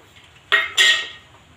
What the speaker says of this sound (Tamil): டிஃபன் பாக்ஸ் மூடி இதில் கட் பண்ணுறது